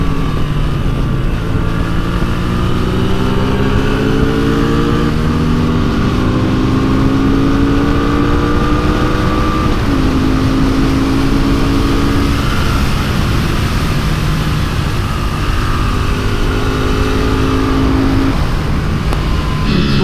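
A Royal Enfield motorcycle ridden hard on a race track, its single engine loud and close, revving up through the gears in repeated rising sweeps with brief dips between shifts, accompanied by steady wind noise.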